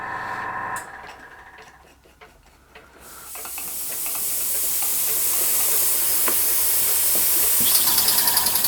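A small Empire B-30 model steam engine run on compressed air from a little compressor starts with a rush of hissing air that swells into a steady, loud hiss, with faint rhythmic ticking chuffs toward the end. No voices.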